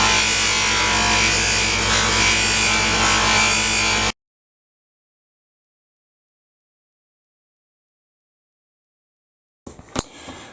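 Aluminium spinning on a lathe, polished with Triple E compound, gives a steady close rubbing hiss with machine hum for about four seconds, then silence, then a few faint knocks.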